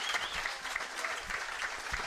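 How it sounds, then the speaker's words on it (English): A live audience at a football talk show held at a food bank gives a brief, soft round of applause, heard faintly and without talk. "Ladies and gentlemen, how about a round of applause for Mr. Zion Young"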